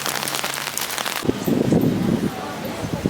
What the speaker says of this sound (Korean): 어떻게 비가 안 오는 날이 한 번도 없을까요?